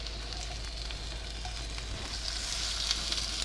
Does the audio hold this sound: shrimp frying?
yes